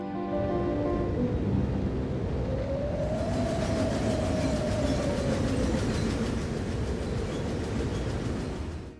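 A train rumbling along the rails with a continuous low roar and rattle, and a drawn-out horn-like tone rising and fading through the middle.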